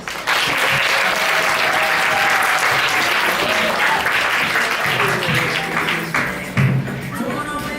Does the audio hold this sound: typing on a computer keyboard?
no